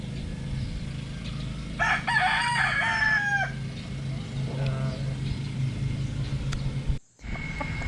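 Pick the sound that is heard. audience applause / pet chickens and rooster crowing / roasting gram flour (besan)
pet chickens and rooster crowing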